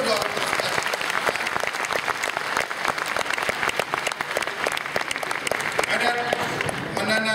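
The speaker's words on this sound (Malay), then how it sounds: "Kita berikan tepukan gemuruh kepada kedua-dua" An audience applauds the debate teams at the 2011 national unity and integration debate final at UTP. The clapping is thick and sustained, then thins out near the end as a voice comes in.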